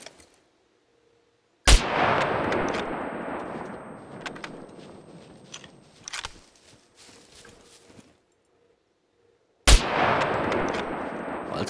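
Two loud, sharp sniper rifle shots in the survival video game SCUM, one near the start and one near the end, each followed by a long rolling echo that fades out; a few faint clicks and clatter fall in the gap between them.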